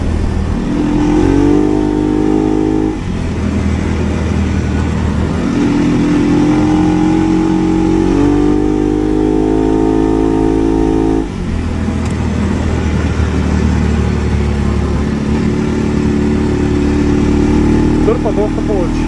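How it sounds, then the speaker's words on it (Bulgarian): A Segway Snarler AT6L ATV with a Stage 2 variator tune revs its engine in repeated rising surges that climb and fall, loud and close, while a voice talks over the engine. "Май вдигна оборотите."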